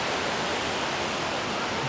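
Water of Kuang Si waterfall near Luang Prabang falls from a height in a loud, steady, close roar of broadband rushing noise, with no voices.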